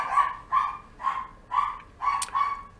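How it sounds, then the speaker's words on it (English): Dogs barking in the game Vera Blanc: Ghost in the Castle, five or six bright barks in a steady rhythm roughly every half second, fairly close and alone with no talk. "And the dogs are awake."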